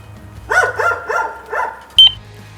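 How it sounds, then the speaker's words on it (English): Dog leaning out of a car window in the rain, giving four loud, evenly spaced barks close by, followed by a brief high-pitched squeak. "I got a dog hanging out the window barking at me."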